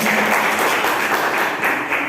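A seminar audience in an English class gives a short burst of dense clapping, loud and continuous throughout.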